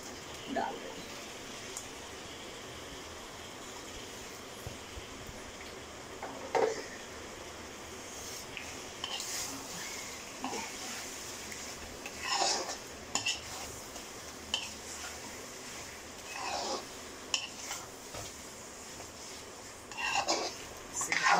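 Potatoes for masala aloo dum being added to a pan, with intermittent scraping and clinking of a spoon against the pan over a soft steady background, fairly faint and close.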